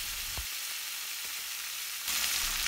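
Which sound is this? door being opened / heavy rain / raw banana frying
raw banana frying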